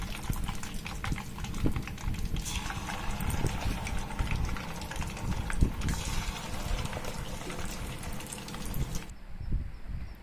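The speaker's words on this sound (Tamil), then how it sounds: "இதுவும் நல்லா ஃப்ரை ஆகிடுச்சிங்க செகண்ட் டைம் போட்டதும்." Garlic chicken kebab pieces fry in hot oil in a second batch, giving a continuous dense crackle and bubbling that stays steady throughout.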